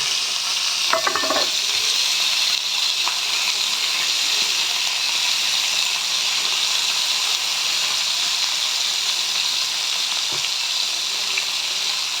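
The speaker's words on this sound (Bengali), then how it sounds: "এবার চিকেনগুলোকে আমি প্যানে ঘি দিয়ে দিয়েছি। এই ঘিয়ের মধ্যে আমি আগে ভেজে নেব।" Chicken fries in ghee in a pan, a dense continuous sizzle and hiss close up, with a couple of brief clinks and stirs early and one more later, and no talking.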